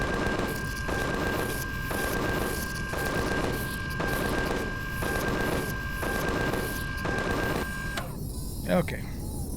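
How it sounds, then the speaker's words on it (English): An automated turret in Empyrion Galactic Survival fires at an enemy in a steady run of evenly spaced bursts for about eight seconds, loud and mechanical over a constant tonal hum, then cuts off abruptly into near quiet. "Got to get a little bit of distance in between he and I so the turret can actually shoot him."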